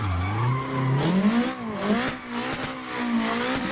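A BDC V6 car drifts in the Assetto Corsa racing game: a loud engine note rises and falls between revs while the tires squeal and skid through the slide.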